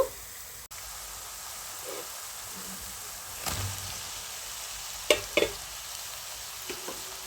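Chopped kandanakaya pieces frying in a pan with chicken liver, giving a steady low sizzle with a few brief sharp clatters from stirring, close and quiet, with no talk.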